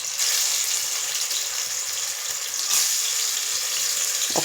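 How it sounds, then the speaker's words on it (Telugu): Vegetable pieces frying lightly in hot oil in a pan for a veg curry, a steady close hiss and sizzle throughout with a brief clink near the end. "ఇది కొంచెం హీట్ అయిన తర్వాత ఈ పీసెస్ మనం లైట్గా ఫ్రై చేసేసుకోవాలి"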